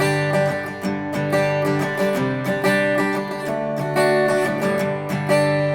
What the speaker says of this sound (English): This is a super common syncopated strumming pattern.